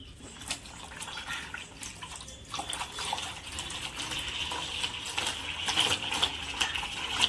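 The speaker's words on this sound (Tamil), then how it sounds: "இப்போ இதில் நம்ம வந்து போர் வாட்டர் ஆட் பண்ணிவிட்டு ஃபஸ்ட்டு தண்ணி பிடிக்கணும்." Bore water runs into a container to set up a moina culture, a moderately faint splashing and trickling with small drips and knocks that builds slightly toward the end.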